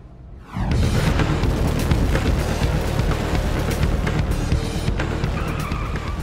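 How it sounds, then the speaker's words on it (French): A dragster launches hard from a standstill, its engine erupting into a sudden, thunderous, sustained roar that stays loud and close for several seconds, with no talk. "Un pilote de dragster qui accélère de 0 à 150 km/h en 2 secondes"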